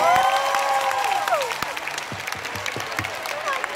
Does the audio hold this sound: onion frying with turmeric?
no